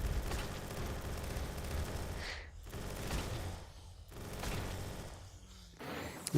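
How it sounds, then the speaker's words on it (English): Minigun fire in the video game Tower of Zombies, loud sustained rapid bursts of gunfire while cutting down zombies, broken by brief pauses before the stream resumes, close and continuous. "right after I grab this minigun and start killing zombies again"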